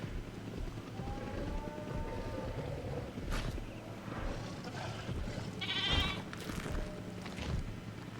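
Goat bleating in the dinosaur park game Jurassic World Evolution 2, a single wavering bleat over steady ambient park noise, with a second louder cry near the end.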